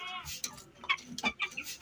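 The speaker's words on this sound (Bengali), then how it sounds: "দেখুন কত সুন্দর করে খাচ্ছে মুরগিগুলো।" Farm chickens eating drumstick leaves, giving a few short close clucks and squawks in quick succession.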